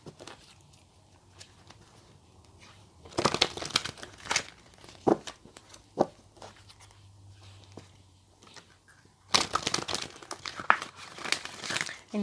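Oracle cards being shuffled and drawn, heard as soft papery rustles and crinkles that swell into two louder shuffling bursts, close by in a quiet room.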